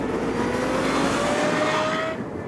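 Lexus LFA supercar with a 4.8-litre V10, a loud, steady engine roar holding high revs with a rising tonal whine, then easing off near the end.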